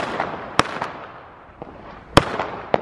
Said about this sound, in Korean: 오늘이 가이포크스 나잇이라서 불꽃놀이를 밤에 하거든요.